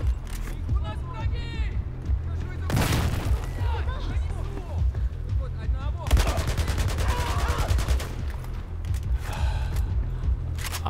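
Grenade blasts and gunfire in the Battlefield 4 campaign: two sharp, loud explosive bursts stand out among rapid crackling shots and steady battle noise, with a voice speaking over it.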